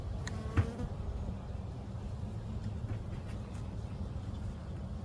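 Honey bees buzzing around an opened beehive in spring, with a steady, dense hum close by and one brief knock near the start.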